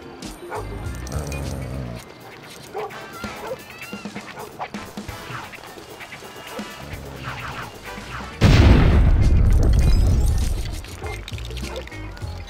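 A dog in Lego City Undercover barks in a few short yips amid game music and effects, with a loud rushing burst near the end.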